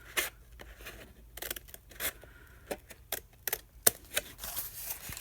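Scissors snip through journal spine material in a handful of sharp, separate cuts with quiet handling noises between them, close and fairly soft.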